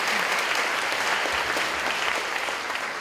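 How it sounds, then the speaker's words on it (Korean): A church congregation gives a round of thanksgiving applause at a Sunday worship service, steady dense clapping filling the room at an even level from start to finish. "하나님께 한번 감사의 박수 올려드리겠습니다"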